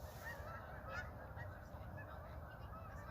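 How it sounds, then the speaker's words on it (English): Migrating geese honk repeatedly in a loose, continuous chorus, moderately distant, outdoors with steady background noise and no talking. "I'm starting to think that these geese are just kind of scattering to get on track with their migration."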